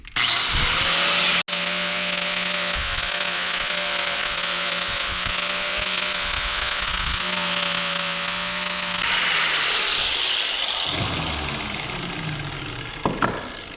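A flapper wheel on a power grinder whines loudly and steadily as it strips paint off a steel piece for welding, running for about nine seconds before winding down and stopping, with a few faint knocks afterward.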